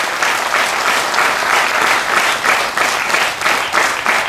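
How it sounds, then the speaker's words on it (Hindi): Steady, full applause from an audience at a spiritual gathering in Puri, Odisha, a dense continuous patter of many hands clapping at close range without speech. "तालियां बजाएंगे"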